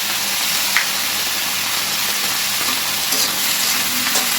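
Cauliflower fries in oil with salt and turmeric, giving a steady, close sizzle and hiss with occasional faint stirring clicks and no voices.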